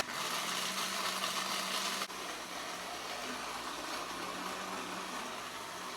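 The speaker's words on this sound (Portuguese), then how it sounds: "Eu gosto de dar uma balançada assim no liquidificador quando ele começa já a parar" A blender grinds dry ingredients into flour for a sugar-free, gluten-free vegan chilled pie, giving a loud, steady whirring roar that briefly dips, then continues at a slightly lower pitch.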